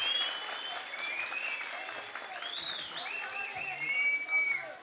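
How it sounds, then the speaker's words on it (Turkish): Steady audience applause at a youth gathering in Esenler, a dense wash of clapping with crowd whistles and cheers rising toward the end, heard from within the hall. "Şöyle kuvvetli bir alkışla başlayacağız."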